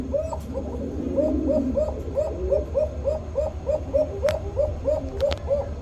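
A male pigeon at a pigeon market gives a repeated cooing call, regular rhythmic coos close by, with faint market bustle and a few sharp clicks behind.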